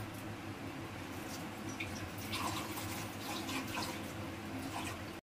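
Water poured into a mixing bowl to rinse out leftover potato batter mixed with yogurt, a steady soft splashing and trickling that runs close and even for about five seconds, with no talk over it.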